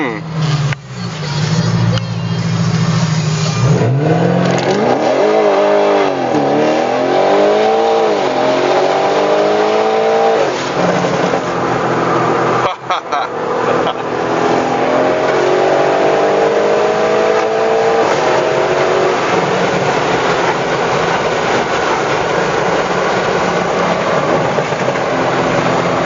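An Audi RS6 tuned to 760 bhp roars as it launches hard, pitch climbing through several quick gear changes, loud and close from inside the cabin.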